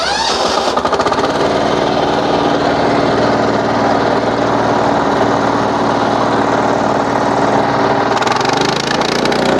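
A Husqvarna TF440 diesel walk-behind tractor engine runs steadily and loudly at close range, a constant rough chugging drone with no talking.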